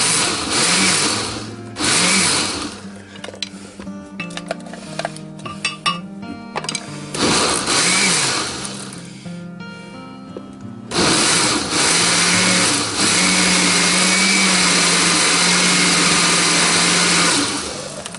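A kitchen machine processing potatoes for dumplings runs with a loud motor whir that starts and stops in bursts, chunks rattling and churning inside, then settles into a steady continuous grind.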